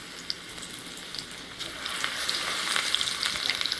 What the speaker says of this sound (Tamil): இப்போ நம்ம வறுக்க ஆரம்பிச்சிடலாம்.